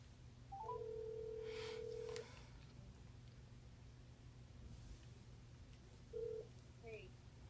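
Touch-tone keypad beeps sound faintly as a phone number is dialed to call a friend: one long tone, then a short tone a few seconds later, over steady low room hum.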